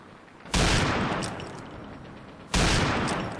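Two loud, sharp sniper shots from a shooting video game ring out about two seconds apart, each one followed by a long decaying echo.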